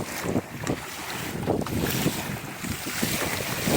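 Strong wind roars steadily past the microphone on a sailing boat with its centreboard down during a fast surf downwind, with water rushing along the hull, loud and continuous throughout.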